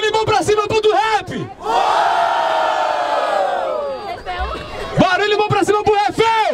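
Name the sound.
crowd cheering and shouting at rap battle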